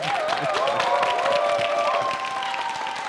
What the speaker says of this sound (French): Merci de faire beaucoup d'applaudissements pour vous, chers amis